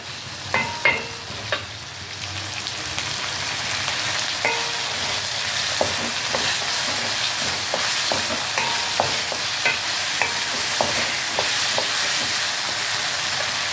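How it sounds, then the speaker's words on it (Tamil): Onion, tomato and green sundakkai sautéing in oil for a kara kuzhambu: a loud continuous sizzle with scattered spatula scrapes and taps against the pan, clacking more at the start. "சுண்டக்காவும் எண்ணெயில் நல்லா வதங்கணும்"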